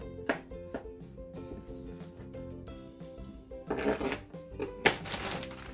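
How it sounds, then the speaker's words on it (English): A knife cuts shiitake mushrooms into quarters on a board, giving a run of soft close taps and thuds with a couple of louder, scratchier cuts near the end. "You can slice them, or you can cut them in quarters like this."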